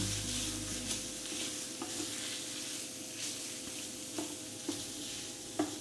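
Bacon lardons fry in a pan with a steady close sizzle, broken by occasional soft knocks of stirring and no talking.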